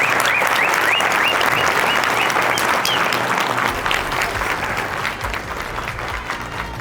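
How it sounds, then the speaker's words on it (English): Applause from a large crowd at a Namibia tour event, loud and dense throughout with a few whoops over it, thinning slightly toward the end. "Let's give a round of applause"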